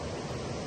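A monsoon-swollen waterfall roars as a dense, even rush of falling water, steady and broadband with no breaks, heard only briefly.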